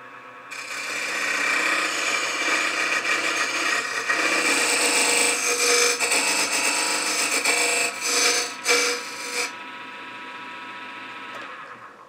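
A wood lathe turns decorative beads on a soft-wood lidded rook box, giving a steady, close-up scraping and cutting whir for about nine seconds, broken by a few short catches near the end before tapering to a quieter hum.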